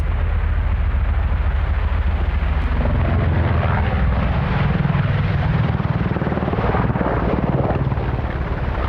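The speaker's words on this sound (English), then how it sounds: "the EH-101, seen here in its Navy guise as the Merlin, an anti-submarine warfare helicopter" An EH-101 Merlin anti-submarine warfare helicopter in Navy configuration flies at the Farnborough International airshow, its rotor and turbine noise a loud, sustained, rumbling drone with steady rotor chop throughout.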